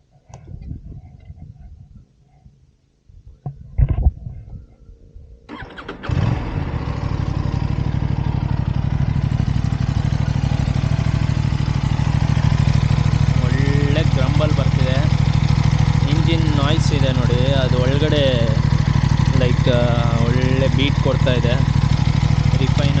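Aprilia RS 457 motorcycle starting: a short crank and brief rev after a quiet lead-in, then a loud steady exhaust idle that runs on, with someone talking over it in the later part.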